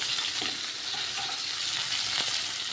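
Eggplant fries in a pan alongside pointed gourd, pumpkin and cauliflower, giving a steady close sizzle with faint stirring clicks throughout.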